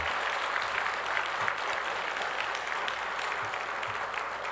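Congregation at a Wednesday morning church service claps steadily for the young volunteers and ministry staff, a dense, sustained round of applause that fills the room throughout without pause.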